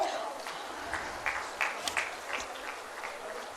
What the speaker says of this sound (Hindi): तालियां हो।